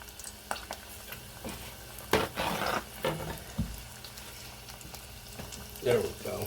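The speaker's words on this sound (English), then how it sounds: "you can fry these in the same oil as the fries, the French fries, no big deal" Oil sizzles and crackles steadily as burger components fry in hot oil shared with French fries, with a few louder bursts and stirring clatter along the way.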